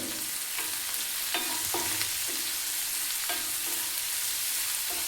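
Onions cooking in a pan with turmeric and salt give a steady, close sizzle with repeated scraping strokes of a spoon stirring them at irregular intervals, and no voices are heard.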